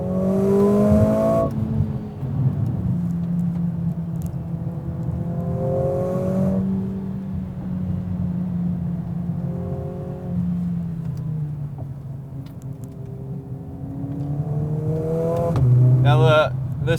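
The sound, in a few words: 2020 Mercedes CLA45 AMG engine sound inside cabin, synthesized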